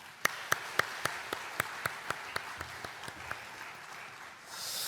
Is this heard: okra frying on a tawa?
no